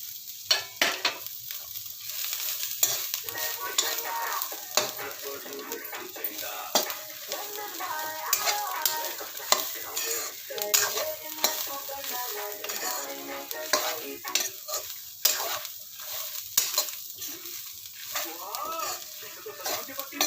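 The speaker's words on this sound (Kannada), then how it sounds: "ತೆಂಗಿನಕಾಯಿ ತುರಿದಿಟ್ಟಿದ್ದೀನಿ ಸ್ವಲ್ಪ, ಒಂದು ಅರ್ಧ ಹೋಳಷ್ಟು ಉಂಟು, ಅದನ್ನು ಸಹ ಫ್ರೈ ಮಾಡುವ ಇದರ ಒಟ್ಟಿಗೆ" Grated coconut frying in a pan, with constant close scraping and stirring over a soft sizzle and occasional clinks of the utensil against metal; a voice talks faintly at points.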